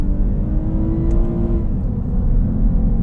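A Lexus IS 350 F Sport sedan, shifted into manual mode, pulls hard toward its 7,000 RPM redline, a loud, continuous engine drone heard from inside the car with no one talking.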